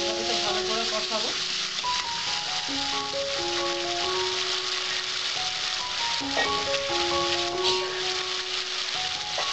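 Cauliflower and potatoes sauté in a pan with sugar, a constant close sizzle with stirring, while faint melodic music plays in the background.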